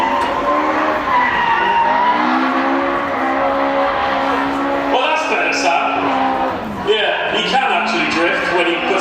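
Loud continuous tire screech and engine drone from a drift car sliding at a Japfest drift event, rising and shifting in pitch, with a voice talking over it.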